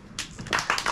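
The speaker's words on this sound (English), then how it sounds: "Round of applause," Live audience applause at a comedy show: a short burst of clapping hands that swells in irregular waves across the second, fairly close, with no talk over it.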